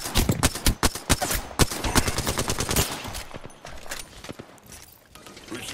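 Rapid video-game gunfire, loud volleys of sharp shots in quick succession, dense at first then thinning into scattered bursts.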